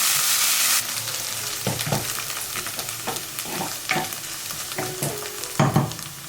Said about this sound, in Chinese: 翻炒均匀就可以关火